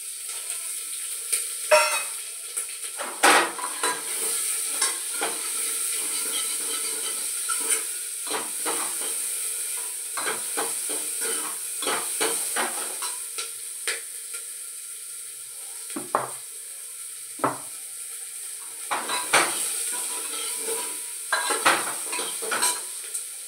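Onions sizzle in a hot pan on a home stove, a steady frying hiss broken by frequent scraping and clinking as a spoon stirs them against the metal.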